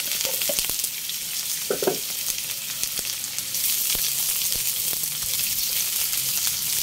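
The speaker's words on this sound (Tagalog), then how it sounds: "ginigisa ko na. Bawang, sibuyas." Garlic and onion sauté in oil in a pan while cooking green beans adobo, a steady close sizzle with a few scraping stir strokes throughout, no voices.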